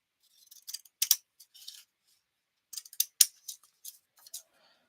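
Scissors cutting paper down for a papercraft, two bursts of crisp, close snipping separated by a pause, with no talk.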